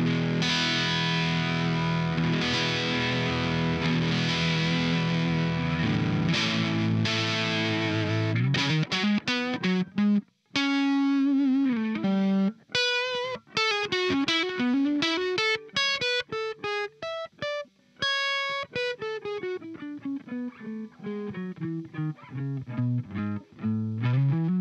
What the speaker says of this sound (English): this incredible mixture of both warm distortion and bright, angry, jagged distortion